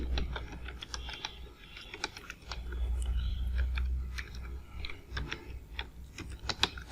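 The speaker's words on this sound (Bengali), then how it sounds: "এখন যদি আমি এখানে টাইপ করতে থাকি," Irregular clicking keystrokes on a computer keyboard while Bangla text is typed into MS Word, close and fairly quiet over a low steady hum, with no talking.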